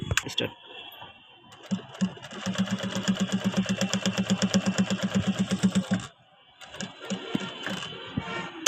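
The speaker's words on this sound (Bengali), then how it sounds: "তাহলে আমরা এখন প্লাকেট 160 অপশন দেখেন কীভাবে সেলাইটা দেয়" An industrial sewing machine runs in a fast, even stitching rattle while sewing a shirt collar placket, pausing briefly before starting again, with someone speaking over it at times.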